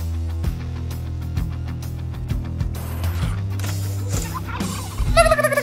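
Turkeys gobbling in a video game anniversary event trailer for a turkey race, set over steady background music with repeated gobble calls that build to a louder burst at the end.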